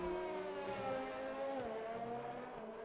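Formula race car in a racing video game holds a steady, sustained engine whine with a rich harmonic drone that dips briefly as if shifting. It runs continuously and close, with no talk.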